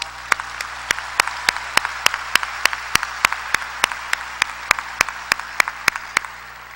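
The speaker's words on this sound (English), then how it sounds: "could you join me in giving him some applause?" An audience at a Fresno State gathering applauds in honor of the Dean, with crisp, evenly spaced nearby claps ringing out over a steady wash of crowd clapping for about seven seconds.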